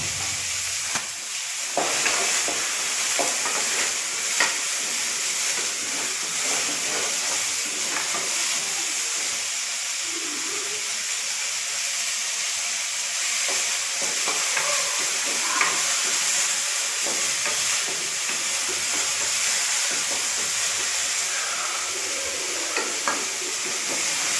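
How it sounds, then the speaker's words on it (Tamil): Masala for a village-style chicken curry sautés in a pan with a continuous close sizzle and hiss, broken by regular scraping stir strokes throughout. "நல்லா வதக்கி வச்சுக்கணும்"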